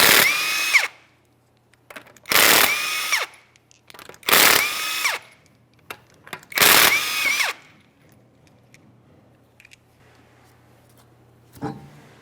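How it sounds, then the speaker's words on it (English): A power tool zips lug nuts off a Subaru Outback wheel in three loud, close, whirring bursts of about a second each, with quiet pauses between, a fainter click near the end, and no talking. "Let's remove all other lug nuts."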